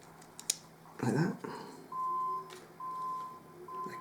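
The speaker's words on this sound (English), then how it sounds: "I can hear a truck beeping." A truck's reversing beeper sounds outside, distant, as three or four steady evenly spaced tones under nearby rustling and handling noises from indoors.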